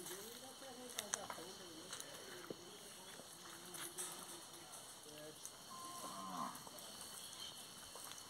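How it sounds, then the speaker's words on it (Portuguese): A pair of oxen on a rural farm low in deep, drawn-out moos at mid distance, with people talking quietly alongside. "Tem dois bois aí."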